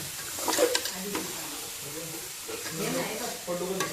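Steady sizzling bubble of grated coconut cooking in sugar syrup for coconut burfi, with occasional scraping stirs, close by, and a voice talking faintly in the background.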